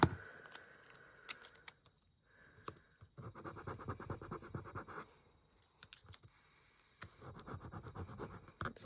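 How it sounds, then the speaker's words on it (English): Masking tape is ripped off the roll and pressed down by hand, giving several short tearing bursts and soft scratchy rubbing, close and quiet with brief pauses between. "We're going to just stick it down, and I'm going to use a bit of masking tape."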